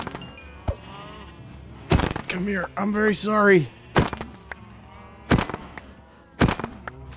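Sheep bleating in the video game Minecraft, several wavering bleats near the middle between sharp thuds, with someone speaking briefly.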